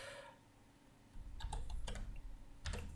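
Quick bursts of typing on a computer keyboard as numbers are entered, close clicks in a few short clusters after a brief quiet start, with no speech.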